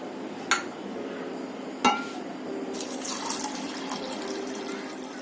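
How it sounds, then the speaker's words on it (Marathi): Lentils are washed as water sloshes and pours in a container, with two sharp clinks of a metal vessel early on. "आता आपण डाळ धुवून घेऊया"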